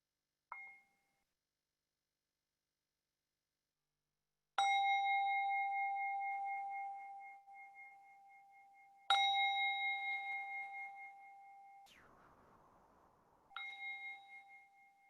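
A meditation bell is struck four times, each strike a clear ringing tone that lingers and slowly fades, separated by several seconds of quiet, with a soft rustle just before the final strike.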